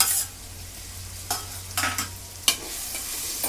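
Raw Godavari prawns frying in a pan, with a steady close sizzle broken by a few stirring scrapes and clinks of a utensil against the pan.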